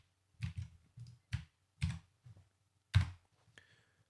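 Keys clack on a Mac computer keyboard in short separated bursts of typing, close and fairly quiet, with no talking.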